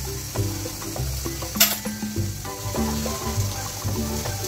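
Sizzling gravy being stirred with kasuri methi added, a soft crackling sizzle with scraping spoon strokes against the pan, close and steady, no voices.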